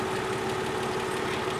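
A 315,000-mile car idles on a cold day, giving a steady, even engine hum with a low mechanical drone throughout and no voices over it.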